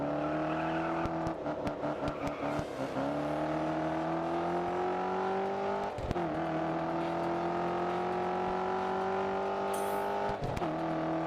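A muscle car racing in GRID Autosport, its engine droning and rising in pitch steadily, with a few sharp gear-shift breaks where the revs drop and climb again, up close and continuous.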